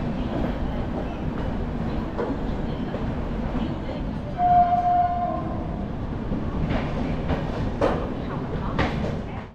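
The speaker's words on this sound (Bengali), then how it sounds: "ট্রেন এখন ঢুকে গেল হচ্ছে মালদা টাউন স্টেশনে।" The Darjeeling Mail (12344) rolls into Malda Town station with a continuous heavy rumble and wheel clatter, a sustained horn blast midway, and clanking as it slows.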